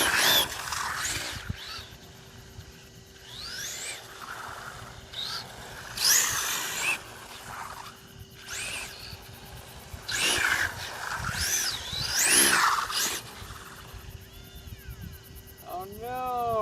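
A radio-controlled car revs up in repeated bursts, its motor whining in rising and falling sweeps as the tires spin, with quieter pauses between runs and a hum underneath.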